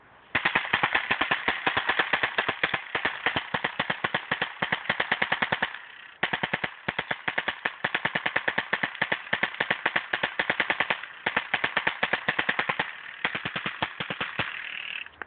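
Airsoft gun firing copper-coated metal balls in rapid full-auto bursts, a dense stream of sharp clacking shots with a couple of brief pauses between strings, close and fairly loud with no talking.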